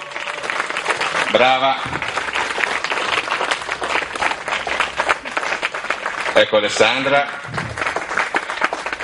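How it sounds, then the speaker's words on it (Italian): Audience applause at a 2018 Tuscania fashion show for the costume designer, sustained clapping and cheering with a voice speaking over it twice. "Un applauso."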